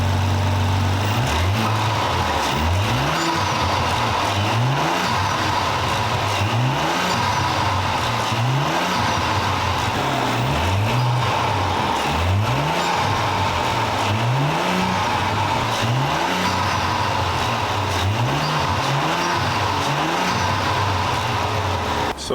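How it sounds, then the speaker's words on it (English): An Audi Q7 engine fitted with an aftermarket intake filter is revved about eight times in a steady rhythm. Each blip rises and falls over a loud, constant idle, with no talk. "aftermarket intake filter sound check."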